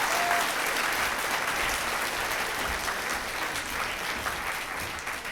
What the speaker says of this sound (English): Let's give these wonderful students another round of applause.